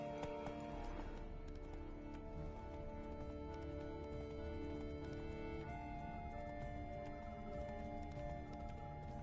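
Horse hooves clip-clopping at a run in The Witcher 3 game, a steady drumming gait under a dense, continuous layer of game music and ambience, with a brief whinny near the start.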